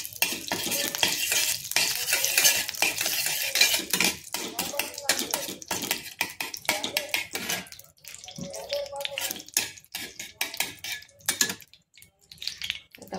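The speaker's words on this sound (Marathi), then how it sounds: "आता आपण डिंक भाजून घ्यायचंय तुपामध्ये" Edible gum (dink) roasting in ghee in a pan makes a busy crackling sizzle, with frequent scraping and stirring strokes against the metal, loud and close, quieter in short gaps.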